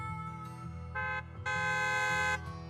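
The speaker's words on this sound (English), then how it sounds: "A loud honk echoes as several trucks with the Leaps and Bounds logo drive into an open area." A loud truck horn blares in Zenless Zone Zero as trucks bearing the Leaps and Bounds logo roll into an open area, sounding in two sustained honks, a shorter one and then a longer, louder one, over a continuous low engine and music bed.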